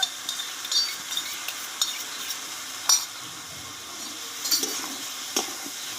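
Yogurt being stirred into a jackfruit and potato curry in a pan, with soft scraping and scattered light clinks of the spoon against the pan over a low sizzle, steady and close with no talk.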